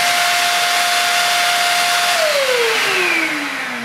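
A Goblin stick hand held vacuum cleaner runs close and loud with a steady whirring motor whine and broad airflow hiss, the motor pitch sliding down toward the end as it winds down.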